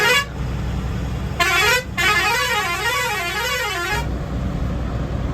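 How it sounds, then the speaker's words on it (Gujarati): A loud vehicle horn blares close by, with a brief blast followed by a longer wavering honk over rumbling engine noise. "આપણે એને હોરન તો માર્યા"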